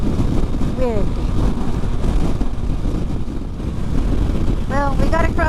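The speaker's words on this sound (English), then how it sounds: "I really feel the wind pushing me around. It's a crosswind coming from the south, and we're headed west." Heavy crosswind gusts buffet the microphone during a motorcycle ride across open windy plains in Utah, a constant roaring rush under engine noise, with a few brief whistling squeaks cutting through.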